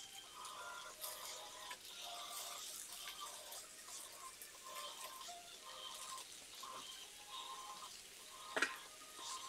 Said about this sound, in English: I'm getting the flat sides of these down because I really want a nice sear on those